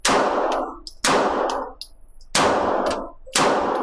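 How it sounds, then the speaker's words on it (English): Four sharp 9mm shots from a Sig Sauer P320 pistol, each followed by a ringing clang from a steel target, spaced about a second apart, loud and close. "For me, it's shooting very low."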